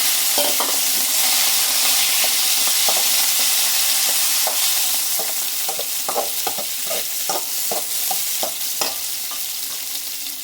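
Onions fry in a pan for a Bangalore-style field bean masala kuzhambu, a steady sizzle carrying through while a spoon scrapes and stirs in irregular, close clatters.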